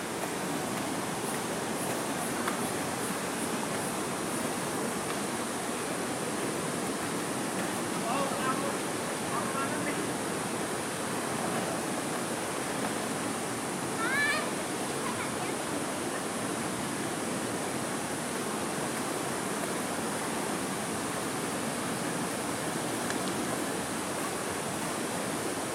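Waterfall at Erawan National Park in Kanchanaburi, Thailand: a steady, even rush of falling water at moderate distance fills the whole span without a break, with faint thin chirps drifting over it.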